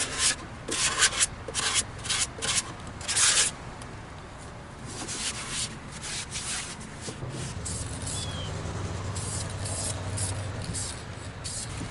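Paint on a sink being sanded by hand with a sanding sponge during a bathroom renovation in an RV, with close, brisk scratchy strokes at first, then a softer continuous rubbing.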